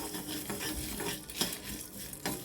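Whole spices such as peppercorns, cardamom, cinnamon and cloves stirred and roasted in a pan for fish curry, with steady scraping and light sizzle and a few sharper spoon clicks against the metal, close up and without talk.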